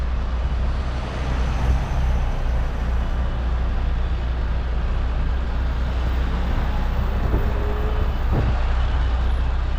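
Truck reversing at a roadside lay-by, a constant heavy low engine rumble with traffic noise and a brief faint tone near the end, no talk.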